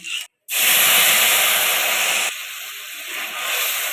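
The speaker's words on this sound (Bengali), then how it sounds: "এবার এই তেলের মধ্যেই আমি ফোড়নগুলো দিয়ে দিলাম" Tempering spices are dropped into hot oil for a Bengali tangy fish-roe dish, giving a sudden loud, steady sizzling hiss up close that eases slightly partway through.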